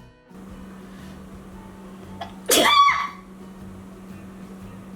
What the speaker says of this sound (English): Why do my sneezes sound like that?